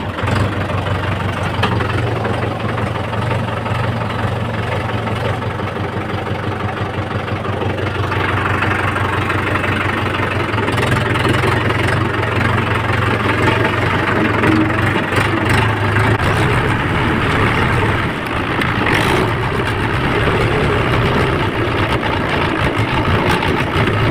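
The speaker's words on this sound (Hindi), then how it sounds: "चलते ट्रैक्टर स्टार्ट करते हैं।" A farm tractor's diesel engine runs steadily, close and loud, with a low constant rumble that shifts and rises slightly partway through, at a farmyard before heading to the field.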